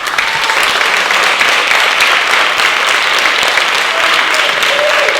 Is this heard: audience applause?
yes